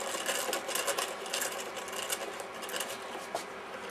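A crank handle winds the rubber elastic motor of an old model Hurricane aircraft anti-clockwise, giving a fast, steady run of small clicking and whirring ticks for about four seconds, close and fairly quiet with no talking.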